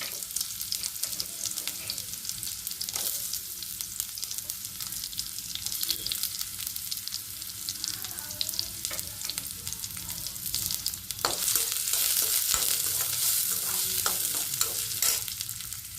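Onions sizzle and crackle steadily in hot oil throughout, a dense frying hiss with occasional stirring scrapes, close and fairly loud, no talking.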